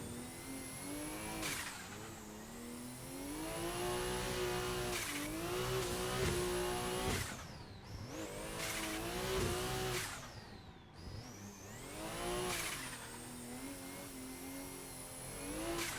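A race car engine in a drifting video game revs and screams continuously, rising and falling in pitch with tire squeal through the slides, loud and alone with no talk.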